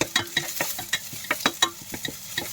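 Garlic frying in a pan as adobo is cooked, a close continuous sizzle broken by rhythmic scraping strokes of a spatula stirring it, with no voices.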